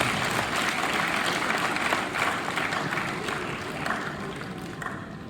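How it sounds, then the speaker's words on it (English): A large crowd at a public address on racism gives a resounding round of applause, dense and sustained clapping that slowly eases over about five seconds. "Another resounding round of applause for yourself."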